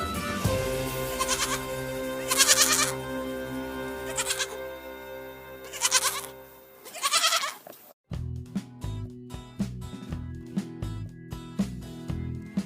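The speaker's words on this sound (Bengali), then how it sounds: "ছয়ে ছাগল ছানা লাফিয়ে চলে" A goat kid bleats in several loud, wavering cries over a bright children's song backing with steady melodic music throughout.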